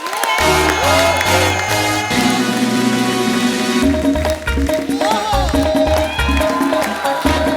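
A studio audience at a TV comedy show bursts into dense, sustained applause and cheering to welcome a guest, loud and continuous over booming stage music.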